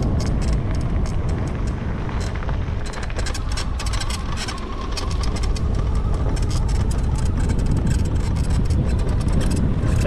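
A Gunai MX25 electric bike rides off-road on the throttle, with a steady motor drone and constant rattling and clattering from the rough trail, loud and close with wind rushing past the microphone.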